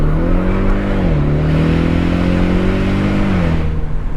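A 2025 Ford Mustang EcoBoost Convertible engine drones steadily and close, its pitch dipping briefly and then climbing again as it pulls, with no talking over it.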